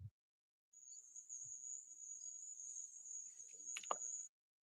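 Crickets chirping in a continuous high-pitched trill that holds steady for several seconds with a few faint knocks underneath, then cuts off abruptly.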